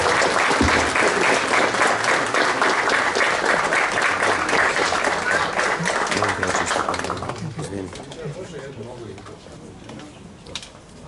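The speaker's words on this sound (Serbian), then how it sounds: "Aplauz za naše Vukovce." Audience applause at a school award ceremony, a dense, loud wash of clapping that fills the opening seconds before thinning and fading toward the end, with faint voices underneath.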